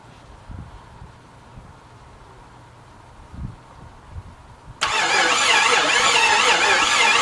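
An old car in restoration is quiet at first apart from a few soft knocks, then its engine suddenly cranks loudly and steadily for the final seconds without catching.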